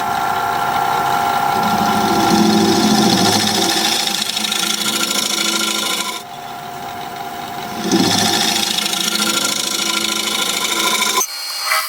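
Wood turning tool edge ground on a spinning sharpening wheel to raise a fresh burr, a steady loud rasping hum in two long passes with a short pause between, alone with no voices.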